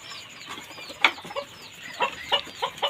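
Fayoumi chickens and two roosters in a coop give short, quiet clucks and soft calls, spaced irregularly, with a faint flap of wings among them.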